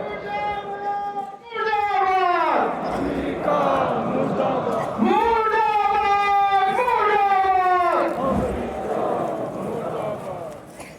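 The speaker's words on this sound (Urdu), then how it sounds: "ہر جگہ پر امریکہ مرد آباد اور اسلام اور خامنہ ای زندہ باد کے نعرے گونج رہا ہے" A large crowd at a political rally in Skardu, Gilgit-Baltistan, chants slogans in loud unison, voices rising and falling in repeated rhythmic bursts with brief pauses between phrases.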